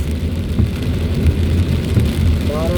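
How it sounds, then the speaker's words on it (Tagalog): Heavy rain hammers a car on a road trip through a typhoon in the Philippines, a loud continuous drumming with a low engine rumble underneath and a brief tonal sound near the end. "Malakas pa rin ang ulan dito guys."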